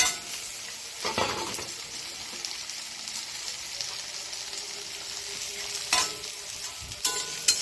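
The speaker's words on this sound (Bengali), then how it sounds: "পেঁয়াজগুলো ভাজা ভাজা হয়ে যায়।" Onions fry with a constant crackling sizzle in a pan, cooked for an egg curry, with several louder scraping clatters of the spatula stirring near the start and again toward the end.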